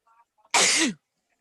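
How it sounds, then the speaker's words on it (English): One sharp, loud sneeze bursts out close by, preceded and followed by brief faint murmurs. "I sneezed. It came from nowhere."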